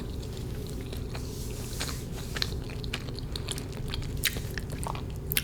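Close, crisp bites and steady chewing of a churro with a crunchy outside and squishy inside, in an ASMR setting. Repeated crunches and moist chewing sounds follow one another with no talking.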